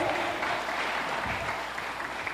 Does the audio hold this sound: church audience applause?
yes